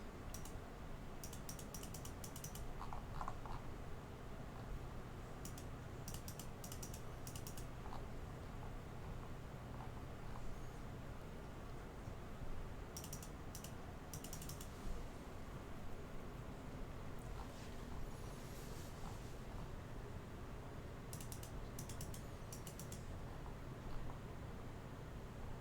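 Someone types on a computer keyboard in short, quiet bursts of rapid clicks separated by pauses, repeating several times against a soft background hum with no one speaking.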